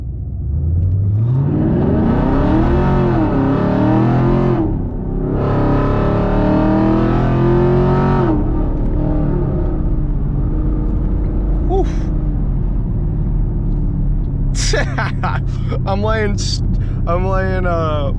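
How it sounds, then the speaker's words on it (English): A Camaro SS with a 500 whp E85 setup launches hard from a traffic light, its engine roaring up through repeated rising revs and gear changes, loud and close inside the cabin, with talk over the engine and some later squeaks and clicks. "let's do a little launch at this light here"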